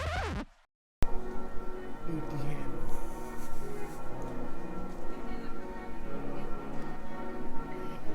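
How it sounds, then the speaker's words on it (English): Church bells ring continuously at a distance in Santiago de Compostela, Spain, blended with bustling ambient noise, after a brief dropout at the start. "can you hear the bells from the church?"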